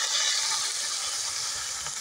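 Water is poured into fried masala in a hot pan, giving a loud, steady hiss and sizzle that fills the whole short stretch without pause, with no voices.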